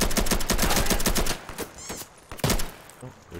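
Rapid bursts of gunfire ring out in the video game Insurgency, with a dense volley of shots followed by a few scattered, sharper single shots, all loud and close.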